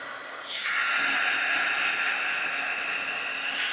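Heat embossing tool blowing hot air onto a greeting card, a steady close hiss that switches on after a brief quieter start and keeps going evenly without any talk.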